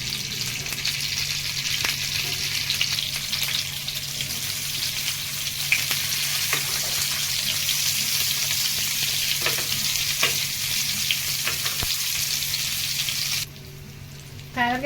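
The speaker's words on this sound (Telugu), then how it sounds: "కాకరకాయ ఫ్రై అయిపోయిందండి" Stuffed bitter gourd fries in a pan with a loud, even hiss and sizzle that carries on steadily, with a few soft knocks, before the frying drops away abruptly near the end.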